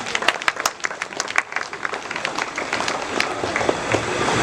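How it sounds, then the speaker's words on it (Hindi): A gathered audience at a Christmas celebration applauding, with sharp individual claps at first that build into a fuller, denser round of clapping. "क्यों ना हम इनके लिए जोरदार तालियां बजाएं"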